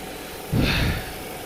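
A BMW V8 engine idles with a low, steady rumble that swells briefly louder for about half a second before settling back to a quiet hum.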